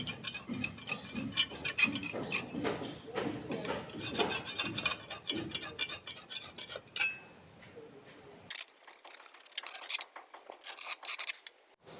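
Paint is scraped off an aluminium pergola frame with a hand tool, giving repeated close rasping and scratching strokes in irregular bursts, with a few metallic clinks and a quieter pause near the end.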